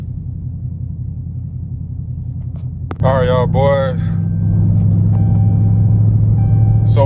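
A tuned Dodge 392 Scat Pack V8 idles with a deep rumble, then someone speaks briefly before the engine settles into a louder, steady droning note close by.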